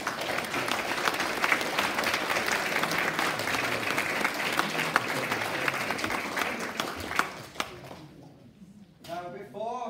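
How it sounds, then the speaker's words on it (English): Audience applause at an Eisteddfod chairing ceremony in Llanwrtyd Wells, dense and steady for about eight seconds before thinning out, after which talk comes in at the end. "So give Hannah a round of applause."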